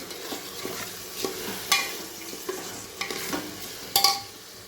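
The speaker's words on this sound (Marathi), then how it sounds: "तूर हरभऱ्याची डाळ आणि मुगाची डाळ घातलेली आहे तर हे पण यामध्ये ओतून घेते मी आणि छान असे थोडेसे परतून घेते" Toor, chana and moong dal sauté in a pan for khichdi with a soft frying sizzle, while a spoon stirs and scrapes with several distinct clinks against the metal pan, close and clear.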